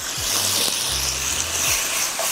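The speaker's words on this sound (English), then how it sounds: "This is the time to add onions." Onions hit a pan of half-cooked chicken for Korean spicy buldak, giving a steady, broad frying sizzle with low clunks and scrapes of the pan, no talking.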